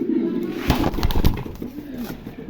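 Double-crested pigeons in a loft give low throaty coos, with a few soft rustles and knocks mixed in, close and fairly loud.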